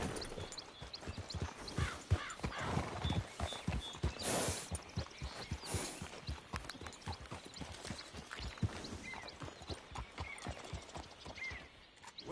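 A horse's hooves clip-clop at a steady walking rhythm, quiet and close, continuing with few pauses.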